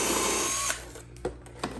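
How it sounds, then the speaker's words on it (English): Power drill with a 3/8 inch bit boring through a stainless steel one-gallon jug lid: a near, high whirring bite that cuts off, followed by two short clunks of handling. "Go ahead and drill that"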